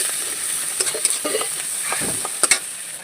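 Onion, chili, garlic, ginger and tomato, salted and dusted with turmeric, are sautéed in a pan for egg tadka dal: a constant bright sizzle broken by a few sharp spatula scrapes and taps, with no voices.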